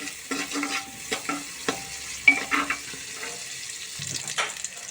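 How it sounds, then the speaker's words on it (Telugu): Garlic cloves frying in a pan, a soft continuous sizzle broken by repeated stirring scrapes and light utensil knocks, with a faint trickle of water in the background. "వెల్లుల్లి దెబ్బలన్నీ ఫ్రై అయిపోయాయి కదా"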